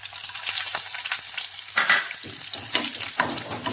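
Peanuts fry in a hot pan, a close, steady sizzling crackle with scraping stir strokes and a louder burst of hiss partway through.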